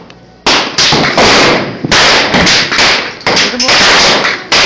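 Gunshots at an outdoor shooting range in Clark County, a series of loud close bangs in irregular quick succession, with brief spoken exclamations between shots.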